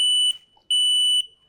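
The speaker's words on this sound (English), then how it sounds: "it's really about the interconnected part of the smoke alarm system, where one alarm goes off" Interconnected smoke alarms sound two shrill, piercing electronic beeps, each about half a second long with a short silent gap between them, loud and clear with nothing else heard.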